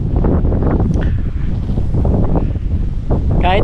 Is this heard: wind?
yes